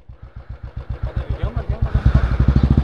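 A motorcycle engine idles close by with a quick, even chugging pulse that grows louder and thicker partway through as the throttle opens slightly.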